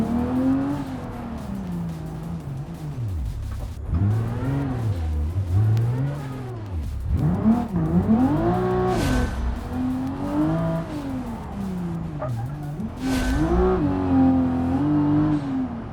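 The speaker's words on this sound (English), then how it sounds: "A little bit of throttle while we're getting on some straighter stretches here." A simulated car engine in the BeamNG driving game revs steadily under throttle on a slippery, partly off-road route. Its pitch rises and falls in continuous sweeps, loud and close for the whole stretch.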